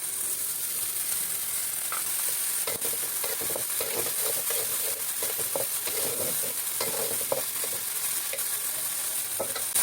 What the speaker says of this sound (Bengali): পেঁয়াজ মরিচ ভেজে চিংড়ি মাছের সঙ্গে রসুন বাটা দিয়ে একটু ভেজে নিয়েছি